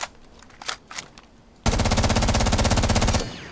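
A video game machine gun with heavy recoil fires one sustained, rapid automatic burst of about a second and a half after a few quieter clicks. It is loud and close, with no talking.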